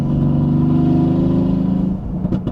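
A Mercedes-AMG GT S engine holds a loud, deep, throaty drone for about two seconds on a downshift, then eases off into rougher, uneven burbles.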